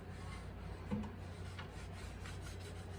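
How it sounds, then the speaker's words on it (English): A rag wiping leftover egg out of a well-seasoned cast iron pan: a continuous soft, close rubbing and scraping with no talk. "we're literally just going to wipe out the leftover pieces of eggs"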